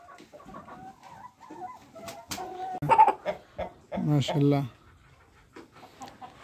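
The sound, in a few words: chickens clucking on a poultry farm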